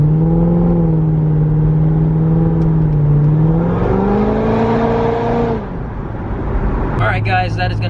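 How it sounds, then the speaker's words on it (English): A 700HP supercharged Corvette accelerates hard in a full pull on a highway, its loud engine note climbing steadily in pitch before a shift drops the revs, then a brief clatter of noise near the end. "full pull in the Corvette"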